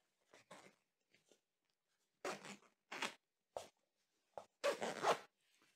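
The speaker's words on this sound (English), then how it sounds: "And then you just zip it right up." A zipper closes along a 100% cotton pillow protector in a few short, quiet rasping pulls, with brief pauses between strokes and no other sound around them.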